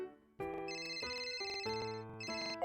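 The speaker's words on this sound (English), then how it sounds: "Oh, my phone's ringing." A cartoon phone ringtone from a BabyBus police game plays loud and alone, a bright electronic melody of stepped tones that starts after a brief pause and carries on steadily.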